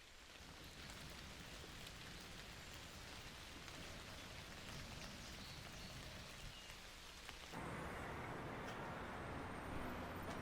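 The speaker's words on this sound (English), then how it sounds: "at least the rain doesn't last very long" Steady rain falls across Hyde Park in London, a dense continuous patter on surfaces with faint road traffic underneath, growing slightly heavier and closer near the end.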